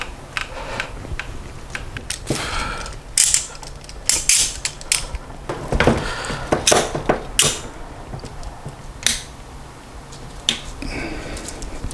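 Clamps are tightened one after another on a glued guitar neck, giving irregular clicks, creaks and ratcheting knocks close by, with quiet gaps between them.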